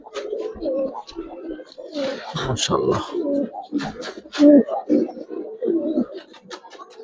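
Silver racing pigeons of the giribaz type coo softly in low, rounded calls near the listener, mixed with someone speaking over them.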